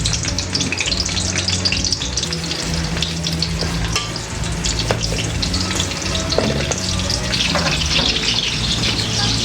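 Onion and garlic sautéing in a pan for duck caldereta, a dense continuous sizzle close up with occasional stirring clatter, over a low steady hum.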